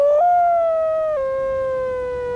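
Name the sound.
man imitating wolf howl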